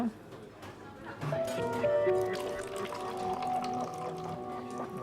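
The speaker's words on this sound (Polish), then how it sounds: "Nalejemy do jednego z kubków troszkę wody." Water trickles and splashes into a cup for a few seconds, a light liquid fill sound with a rising tone, alongside some background noise.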